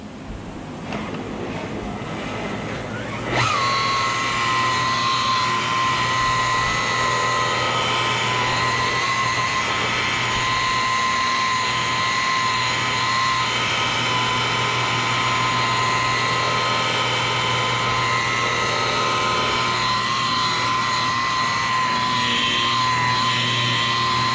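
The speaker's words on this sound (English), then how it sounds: "Now we're going to compound it to basically blend the sanding area in." A polisher compounding car paint whirs up suddenly and then runs in a loud steady drone, its pitch holding nearly constant for a long stretch.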